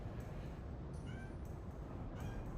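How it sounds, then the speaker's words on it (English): A cat gives a few faint, brief meows in a room, buried under a steady broadband hiss and background noise, with short high-pitched calls spread across a couple of seconds. "you meowed for 5 minutes before you came out"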